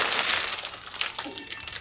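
A flimsy plastic vacuum bag crinkles and crackles as air is drawn out over a solid teak deck-house glue-up, a close, continuous rustle with no speech.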